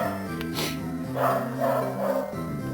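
Several dogs bark close by in short bursts, with video game music playing steadily underneath.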